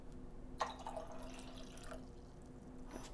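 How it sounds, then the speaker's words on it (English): Water poured back out of a container during a polarity and solubility demonstration, a faint, close splash and trickle with a few scattered drips, no voices. "I'm going to pour this water back now."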